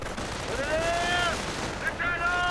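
Armored car gunfire in a war strategy video game, continuous clattering fire mixed with whistling tones and battle din, steady and fairly loud throughout with no talk.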